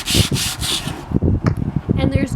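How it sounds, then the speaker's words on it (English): Sandpaper rubbing back and forth over a waxed, painted wooden furniture drawer, a loud, steady rasping in quick strokes with brief pauses, close up. "And I've applied my wax here, and then I'm going to sand the same spot."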